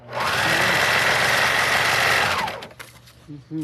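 A serger sewing machine runs fast and steady through fabric for about two and a half seconds, loud and close, then stops abruptly, followed by a few faint clicks and a brief voice.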